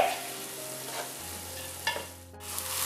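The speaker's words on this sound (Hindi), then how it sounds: "और अब हमने इन मसालों को अच्छे से भून लेना है जब तक कि टमाटर भी नरम नहीं हो जाते।" Spices and tomato paste fry in a pan for Bukhari rice, a soft sizzle with a few stirring scrapes, quiet and close with a steady low hum underneath and no speech.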